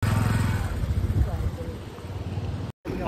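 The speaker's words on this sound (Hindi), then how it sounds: "भाई की बाइक भी देख रहे हो सही से नहीं चढ़ पा रही है" A motorcycle labours up a rough, broken mountain road, its engine droning steadily and close with a gritty, rumbling edge before the sound cuts out briefly near the end.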